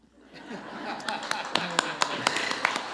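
Audience at a community meeting on fentanyl clapping in sparse, distinct claps over a murmur of voices and light chuckling, the claps growing more regular toward the end.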